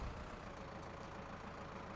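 Steady, low rumbling drone of a Zetor Proxima 110 tractor diesel engine idling in Farming Simulator 19, continuous and even, quiet, with no talking.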